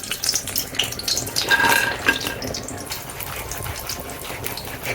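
Paneer pakoras sizzle and bubble in hot oil in a kadai, a steady crackling hiss with soft splashes, no talking.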